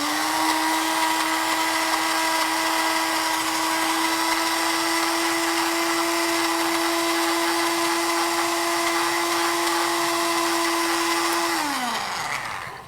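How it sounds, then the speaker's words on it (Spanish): Kitchen blender whirring at a steady high-pitched motor drone for about twelve seconds, loud and close, then spinning down as it switches off at the end. "Vamos a ayudar a esta licuadora."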